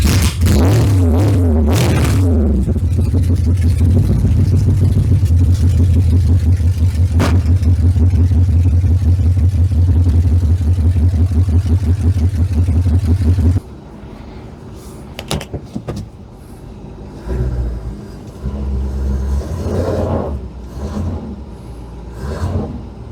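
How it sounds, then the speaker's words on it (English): A rusty old truck is driven out and another backed in. A loud, steady engine drone runs for over ten seconds, then drops away abruptly, followed by quieter, uneven engine and movement noises. "let me drive the truck out and back the other one in"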